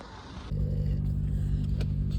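Cars wait in a long queue at the Ukrainian border, first as a soft hiss and then as a steady idling engine hum with a low tonal drone that starts abruptly and stays close and even.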